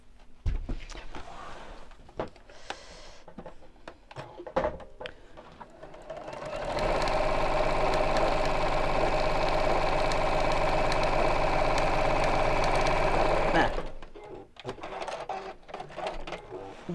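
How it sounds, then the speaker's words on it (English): A sewing machine stitches back over a cushion cover seam in one sustained run of about seven seconds, a loud, close, steady mechanical hum. Handling noises and brief talk come before and after it. "So I just need to sew back over that line again."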